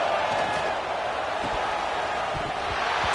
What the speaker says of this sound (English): listen to this crowd noise. The stadium is vibrating.